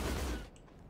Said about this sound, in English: Oh, it's just a normal bullet sweep.